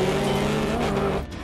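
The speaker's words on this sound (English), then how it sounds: "The scary cars are back." Racing cars in a video game roar past, close and loud, with a sustained engine drone and a brief tire squeal that drops away near the end.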